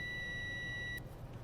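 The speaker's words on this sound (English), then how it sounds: "you hear it beeping" Multimeter continuity test tone: a steady electronic beep for about a second while the probe leads touch, then it stops, faint and close.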